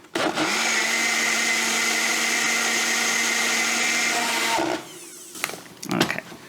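A small blender whirs steadily for about four seconds as it blends French toast egg loaf batter, loud and close, then cuts off, followed by brief clatter and handling sounds.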